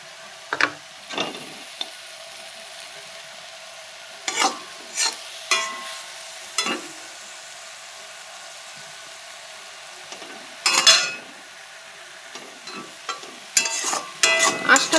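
Butter-fried pea and potato pakora are stirred in a pan, scraping stirring strokes coming in irregular bursts over a faint, low sizzle.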